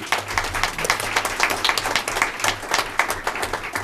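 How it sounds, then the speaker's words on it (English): Audience applause at a school board meeting in Ponca City, Oklahoma, a moderate crowd clapping with individual claps standing out in an uneven, lively patter throughout. "people just join me and just, applause for these 5 folks"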